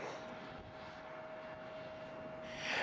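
An airliner painted in a special panda livery flies past near a Los Angeles hotel rooftop, a steady engine roar with a sustained tone that swells louder toward the end.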